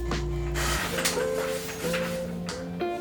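A home printer at a workplace set on a box runs nearby, its motor whirring in shifting tones with mechanical clunks and pauses between feed steps, steady and moderately loud with no voices.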